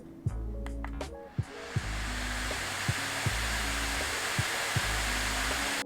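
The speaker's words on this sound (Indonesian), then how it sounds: "ada mode turbo yang nggak pernah aku pakai karena suaranya itu kenceng" Acer Predator Helios 300 gaming laptop (2022) fans ramping up in turbo mode, a few clicks and short tones giving way to a loud, steady rushing whoosh of air that holds constant, close by with no talking.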